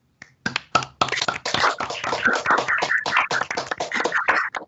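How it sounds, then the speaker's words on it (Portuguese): Scattered applause from participants unmuting their microphones at the close of a presentation in an online international seminar session, a dense, uneven patter of claps from several people that builds quickly and carries on steadily. "Eu peço que todos abram os seus microfones"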